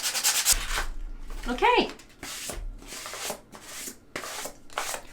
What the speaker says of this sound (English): Got a little piece of sandpaper here, so I'm going to go ahead and just do a light sand on this